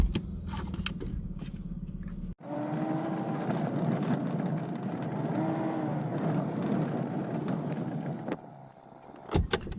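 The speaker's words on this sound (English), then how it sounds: "let's drive down there." A car drives along a rural road toward a distant shooting range, its steady engine and road rumble filling the stretch after an abrupt start, with tyre and wind noise continuous before fading near the end.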